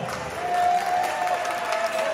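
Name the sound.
wedding guests applause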